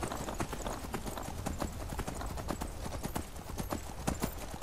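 Armored horse in Skyrim gallops with a steady, rapid clip-clop of hooves, loud and close, with no talking over it.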